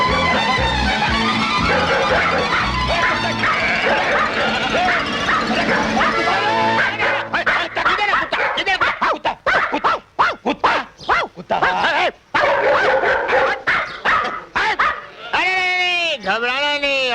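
Dogs bark, yip and whimper in a Hindi film scene, short repeated outbursts mixed under background music and speaking voices.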